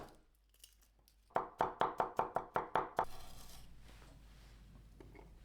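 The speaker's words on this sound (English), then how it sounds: "Chop 3 cloves of garlic." A knife chops garlic cloves on a cutting board while an Asian-style caramel chicken dish is being prepped: about eight sharp, evenly spaced close-up strikes, then quieter scraping.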